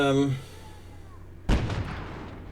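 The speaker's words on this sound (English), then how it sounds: "enemy mortars possibly" Enemy mortar fire in Call to Arms: Gate of Hell: a single heavy blast lands suddenly partway through, loud and boomy with a rumbling tail, after a stretch of quiet ambient battlefield noise.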